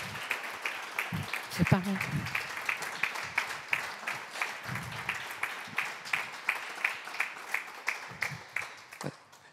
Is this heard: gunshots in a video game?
no